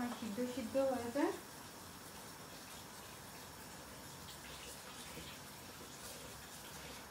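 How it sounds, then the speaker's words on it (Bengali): Very cold tap water gushes in a steady, soft stream as berries are washed, with a voice speaking briefly over it at the start before the running water continues alone. "I'm gonna wash it with very cold water"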